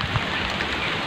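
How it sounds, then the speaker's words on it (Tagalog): Light drizzle falls outdoors by a creek, a soft continuous patter of small drops with a few slightly sharper ticks, even and unbroken throughout. "uwi na si Kuang-Kuang kasi mga dudes umambon-ambon na oh"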